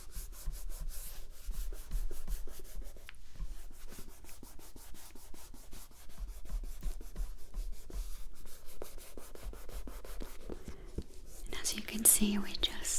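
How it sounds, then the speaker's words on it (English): Gentle friction rubbing along the face during a spa massage, a soft steady brushing hiss that repeats in close, quiet strokes, with whispered talk over it. "we just very gently rub right here. Along the face"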